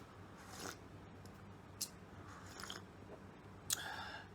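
Black seed (habbatus sauda) capsules are chewed close up, with soft crunching bites at irregular intervals over a steady background hum.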